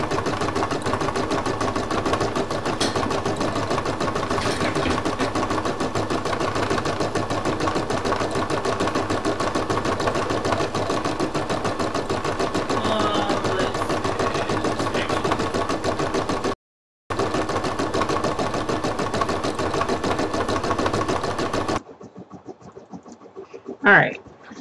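An embroidery machine stitches a towel with a continuous, rapid mechanical whirring and clatter that is loud and close, then cuts out near the end as a person talks.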